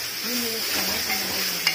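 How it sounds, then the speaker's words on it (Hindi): A continuous sizzle rises from a hot pan as a tomato and green chili paste is added, with stirring noises and a faint voice murmuring underneath. "ये हम इसमें दो चम्मच डालेंगे टमाटर और हरी मिर्च का पेस्ट"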